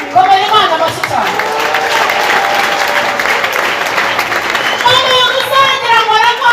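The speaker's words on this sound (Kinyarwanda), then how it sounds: "Komera Imana amashyi cyane" A church congregation applauding loudly and steadily, a close, dense patter of clapping, with a voice calling out over it toward the end.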